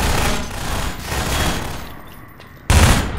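Gunfire in the video game Riot Act: a dense rattle of continuous shots fades briefly, then a sharp loud burst returns near the end.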